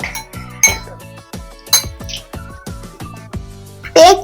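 A spoon stirs garlic butter with red chili flakes in a bowl, clinking against the sides in a quick, regular rhythm, loud and close, with a brighter clatter at the end.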